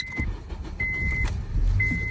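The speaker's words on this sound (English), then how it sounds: "First start up, you guys will hear the VTC actuator go off" Engine start-up on an 8th-generation 2008-12 Honda Accord, with the VTC actuator sounding off and a close engine catching and idling, broken by short intermittent whining chirps.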